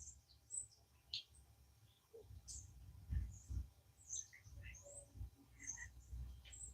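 Small birds sing and chirp at dawn outdoors, with scattered high tweets and short calls coming from several directions, fairly faint against low rumbling background noise.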